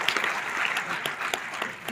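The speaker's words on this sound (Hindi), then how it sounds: "ताली बजाइए नीतीश भाई" An audience at a Bihar political speech claps steadily for about two seconds, dense and fairly loud applause with no voices over it.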